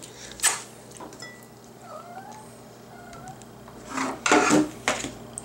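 A house cat gives a few short meows in a kitchen during meal prep, moderately close and fairly quiet, with faint clinks of dishes around it.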